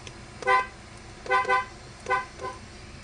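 A car horn, triggered by grounding its circuit, honks in four short close blasts at irregular intervals, the third a quick double tap.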